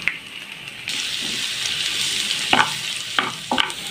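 Chopped garlic added to hot oil in a pan, with a steady sizzle running throughout and a few sharp scraping clicks of stirring near the end; nobody speaks.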